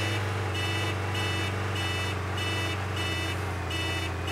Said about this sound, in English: beeping the horn every few seconds